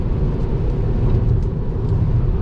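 A steady, loud rushing roar of water spray thrown up by a passing truck onto a car on a rainy night highway, with constant road rumble and faint gritty impacts, no voices.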